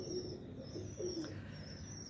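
Teddy pigeons, a small nine-inch breed, coo in low soft repeated calls, fairly close, with a faint high chirp above and steady background noise; no talking.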